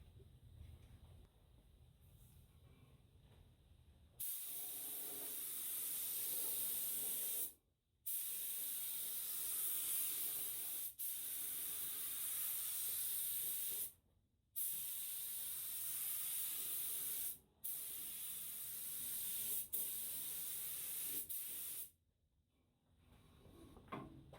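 A spray gun lays base coat paint onto a replacement pickup truck fender. It gives several long, steady hissing bursts separated by short silent pauses, close and alone.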